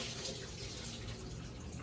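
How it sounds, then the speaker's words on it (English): Water and lime juice draining off soaked turkey wings in a kitchen, a steady close splashing trickle like a running tap, continuous and alone. "Drain off the water and the lime juice so nice and fresh"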